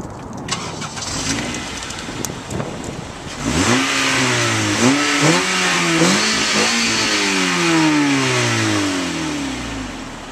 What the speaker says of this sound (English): I'll try and take a video of the car revving, and I'll let you hear it outside